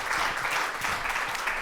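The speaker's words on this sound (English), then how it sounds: "that's a warm applause for the panel" Audience at a speakers' panel event clapping, a dense steady burst of applause from a crowd, brief and continuous.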